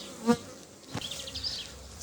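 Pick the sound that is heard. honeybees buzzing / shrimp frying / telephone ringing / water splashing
honeybees buzzing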